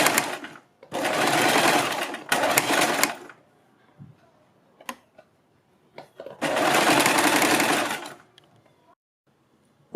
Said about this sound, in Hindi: सिलाई लगा दें।